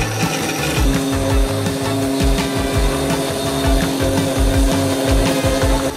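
A budget $150 CNC router carving into wood, a steady rough grinding with a rhythmic chattering pulse as the bit cuts, loud and close with a thin whine riding above.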